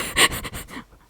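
Missy the dog panting close by, in a few quick, raspy, breathy pulses that fade out after a brief moment, with no one speaking.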